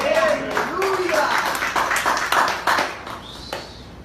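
A church congregation claps during a Spanish-language sermon, a short burst of scattered clapping mixed with voices and cheering that fades after a few seconds.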